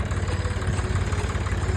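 A tractor stuck in a muddy field while hauling soil, its engine running steadily with a low, throbbing rumble, close and continuous without any talk.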